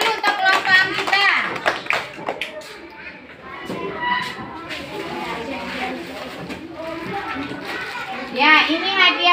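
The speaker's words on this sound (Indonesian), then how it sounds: "tepuk tangan dulu untuk kelompok Anggita" Third-grade schoolchildren in a classroom clap together for a group of classmates, a lively burst of hand claps mixed with children's chatter and an adult voice talking over it.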